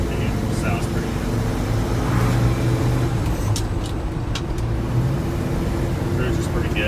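A 1969 Ford Highboy truck engine drones steadily from inside the cab while driving, with road rumble and occasional light clicks and rattles throughout.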